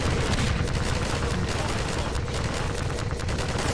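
Gunfire in the video game Half-Life 2 roars nonstop during a boss fight, a dense, loud wall of shots and blasts with no break across the whole stretch.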